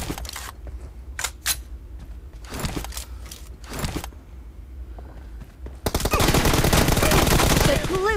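Video game gunfire: a few sharp single shots spaced apart, then a loud sustained burst of rapid automatic fire near the end.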